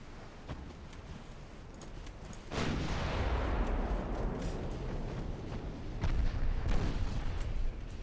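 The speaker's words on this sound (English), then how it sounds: "Safe fire only on the main guns, please." Naval main-battery guns fire in Ultimate Admiral Dreadnoughts, a warship strategy game, with a heavy booming salvo that rolls out into a long rumble, followed by further deep thuds and blasts over steady background noise.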